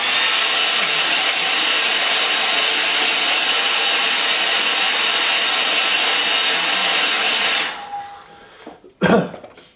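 A hair dryer blows steadily and loudly on a line-and-wash watercolour painting for about eight seconds, then cuts off, leaving a faint room hush and a single sharp knock.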